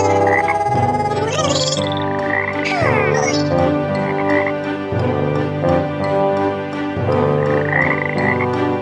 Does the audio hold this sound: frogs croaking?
yes